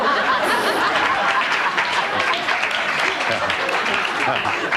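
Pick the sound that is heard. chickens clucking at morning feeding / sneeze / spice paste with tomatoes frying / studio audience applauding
studio audience applauding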